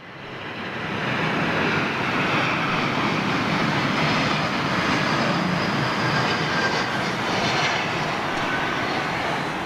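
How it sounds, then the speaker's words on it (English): Jet airliner engines roar with thrust on a wet runway at London Heathrow in November, a loud, steady broadband rumble and spray hiss that swells in over the first second and holds without pause. "Wow, can really see the thrust action with the wet runway."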